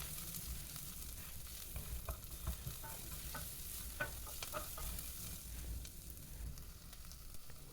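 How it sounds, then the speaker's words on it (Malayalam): Sliced onion frying in oil with bay leaf and cinnamon over a medium flame for Kerala chicken stew, a soft, steady sizzle with irregular stirring scrapes and light taps, fairly faint and without talk. "അതിനുശേഷം ഒരു മീഡിയം സവാള നീളത്തിലരിഞ്ഞത് ചേർത്ത് കൊടുക്കാം."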